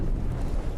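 A short, muffled low rumble, like a distant ship explosion during a Star Citizen space battle, is heard briefly and on its own.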